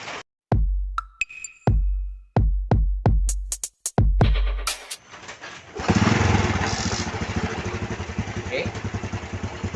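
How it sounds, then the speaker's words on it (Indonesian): Honda Revo Absolut motorcycle engine in a workshop, cranked with several sharp kick-start thumps before catching and settling into a steady, close, loud idle; someone says a brief word. "ini motor sudah hidup, kondisi mesin pun juga normal, nggak ada kendala"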